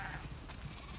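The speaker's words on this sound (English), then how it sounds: "We definitely have way too many sheep." Sheep bleating in the video game The Last of Us Part 2, a short burst of several overlapping animal calls from a flock, fairly close and steady through the whole second with no talk over it.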